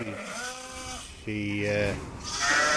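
Lambs bleat on a farm, several wavering, drawn-out calls one after another, close and fairly loud.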